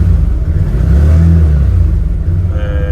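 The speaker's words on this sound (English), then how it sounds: "That's running. It's quite quiet, to be fair, even though it has a different noise being a petrol." A petrol engine on an Aodes UTV runs at a low, steady idle close by, with a deep rumble that swells slightly. A thin whine rises near the end.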